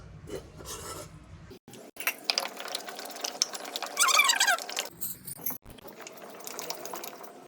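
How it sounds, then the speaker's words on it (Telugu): An electric mixer grinder churns onions, green chillies, salt and tomato into a chutney, giving a harsh, rasping, whirring grind that runs steadily at close range and rises briefly in intensity before the motor stops, with no voices. "టమాటా వేసుకొని రుబ్బుకోవాలి"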